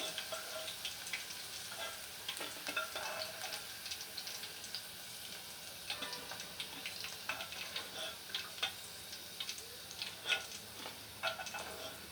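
Okra (bendakaya) frying in a pan gives a steady, fairly soft crackling sizzle with scattered sharper pops and ticks throughout, and no voices.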